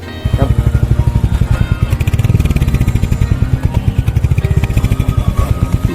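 A motorbike rides along near the Gajoldoba barrage by the Teesta, its engine running steadily close by with a continuous pulsing drone throughout.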